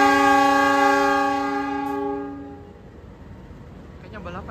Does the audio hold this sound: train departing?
yes